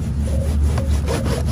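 A dull kitchen knife saws back and forth through a tough piece of beef shank at a campsite, giving a steady, close rasping scrape with no talking.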